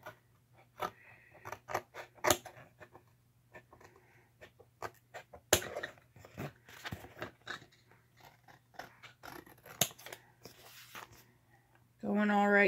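Scissors snip through the cover of an old book, worked close along the cardboard, giving a run of sharp, irregular crunching cuts up close, with a louder burst of other noise at the very end.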